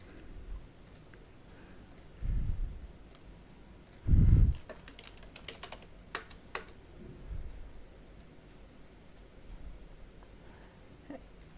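Someone types a git clone command on a computer keyboard, producing quiet, irregular key clicks close by, with a couple of louder low thumps in between and no speech.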